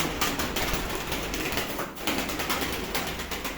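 Pigeons shuffle and flutter nearby with soft cooing and wing flaps over a steady background hum.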